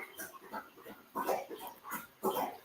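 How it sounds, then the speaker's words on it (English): A dog noisily licking and lapping up water close by, in irregular wet slurping bursts that grow louder toward the end, with no one talking. "I suppose you can hear Cody licking away, lapping up the water there"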